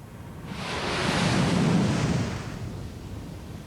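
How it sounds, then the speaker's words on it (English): Petrol poured onto an outdoor fire catches and flares up with a swelling whoosh, a broad roaring burst that builds over about a second, peaks, then slowly fades into a rushing, wind-like burn. "He's pouring petrol onto the fire."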